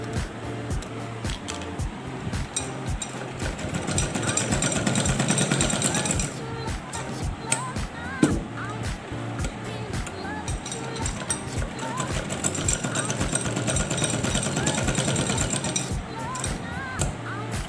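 A sewing machine runs steadily doing straight stitching on fabric, a continuous rapid mechanical chatter with a brief pause partway through, close and fairly loud under occasional speech.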